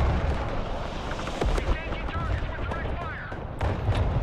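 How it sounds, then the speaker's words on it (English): Artillery fire in the video game Broken Arrow: dull booms and rumbling detonations under a constant battle din, with a few sharper cracks, while a voice talks over it. "The artillery is like right there."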